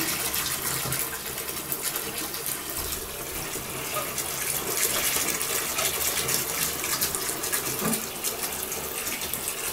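Water runs steadily from a tap in a continuous hissing gush, close and fairly loud, with no talking.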